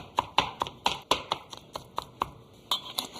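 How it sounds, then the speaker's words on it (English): A knife chops cooled spinach on a board in a steady run of about a dozen crisp, close taps, quick at first and then slightly spaced out. "So now chop the cooled spinach"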